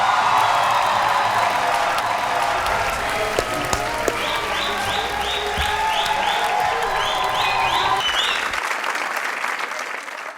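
Sustained applause from a studio audience at a comedy talk show greeting the film cast, loud and continuous throughout with a few whoops mixed in, then tailing off near the end.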